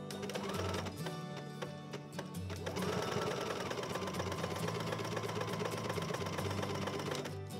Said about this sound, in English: I'm sewing on my Juki HZL70HW sewing machine, and I'm using a stretch stitch as this is a stretchy fabric.